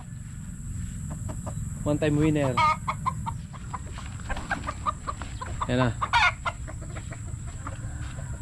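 Roosters squabble in a rural yard, with bursts of agitated clucking and squawks rising over steady background noise, while someone talks intermittently nearby.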